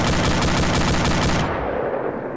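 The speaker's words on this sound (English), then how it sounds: "What are they shooting at?" Loud, close automatic weapon fire from a tactical military video game, a rapid rhythmic burst lasting about a second and a half before cutting off and fading.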